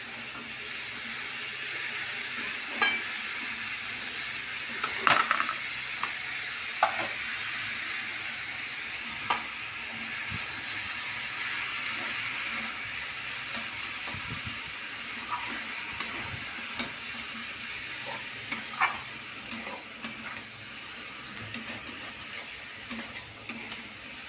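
Grated papaya dropped into spice paste in a pan, sizzling softly with scattered scrapes and clinks of stirring, faint and steady throughout.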